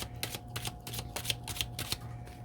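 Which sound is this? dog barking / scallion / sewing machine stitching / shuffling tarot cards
shuffling tarot cards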